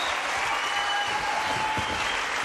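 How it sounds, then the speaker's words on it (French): Studio audience applauding on a French television show, a loud, even stream of clapping that holds steady from start to finish without talk. "Applaudissons pour Madame Marthe."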